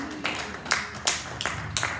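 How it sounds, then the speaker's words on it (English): A church congregation claps hands in a steady rhythm, about five sharp, evenly spaced claps at moderate volume with a faint murmur beneath. "Clap your hands and celebrate God."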